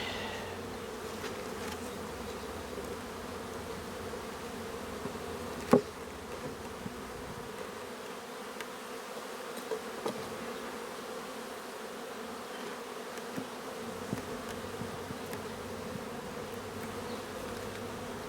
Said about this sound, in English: Angry bees.